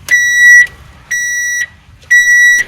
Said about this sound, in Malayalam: അപ്പോൾ ഇങ്ങനെ ബീപ്പ് അടിച്ചുകൊണ്ടിരിക്കും.